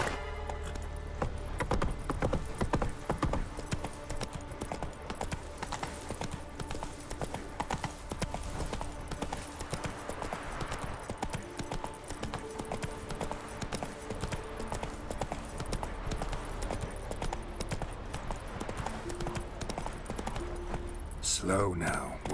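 Horse hooves clip-clop at a steady trot through The Witcher 3: Wild Hunt Next-Gen, a continuous rhythmic beat under game music and ambience, with a voice speaking over it.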